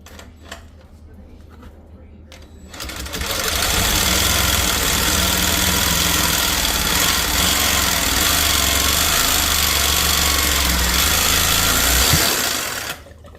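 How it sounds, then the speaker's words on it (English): A Sawzall reciprocating saw cuts during an ice machine installation, starting after a few seconds with a loud, dense, steady buzzing rasp that runs for about nine seconds before stopping, close by. "The reason I'm using Sawzall"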